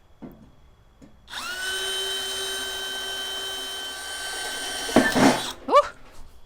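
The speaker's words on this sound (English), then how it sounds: "we basically just take our drill and make a hole" A power drill whirs steadily for several seconds at close range, then grinds and bites through a plant pot to make a drainage hole before stopping, with a few clunks after.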